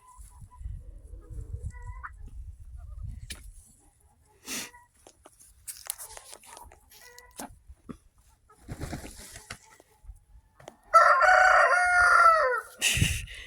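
Quiet rustling and scattered clucks from chickens, then a loud rooster crow rings out near the end, close by.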